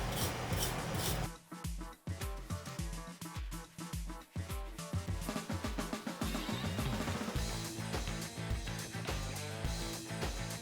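The bottom of a concrete sink mold is smoothed by hand, giving continuous close scraping and rubbing strokes under a dense, steady layer of background music.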